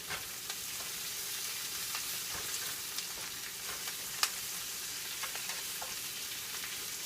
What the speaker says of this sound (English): I like to let it cook down quite a bit before I add my eggs in